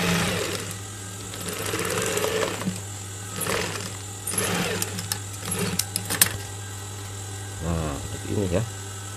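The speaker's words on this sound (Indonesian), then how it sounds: "Nah, dijahit seperti ini." A domestic sewing machine stitches a golf cap in a steady mechanical whir, with a person speaking Indonesian over it and a few rattles and clicks near the end.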